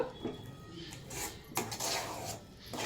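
Hot khara bath being served onto a plate, with a few scraping and clanking utensil-on-vessel sounds, moderately close, in short irregular bursts with no talk.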